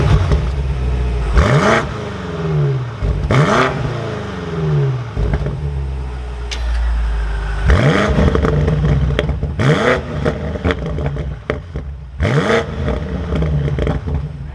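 A 2022 BMW M8 Competition Gran Coupe's engine fires and revs hard several times, each loud blip rising and falling sharply with clattering exhaust between the revs, heard up close.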